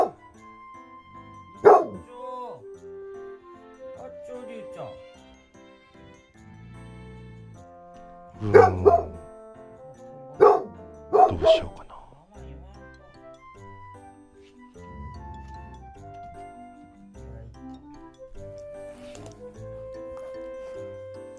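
Several sharp barks from a Great Pyrenees, spaced out in bursts over quiet room sound, with some soft talking in between.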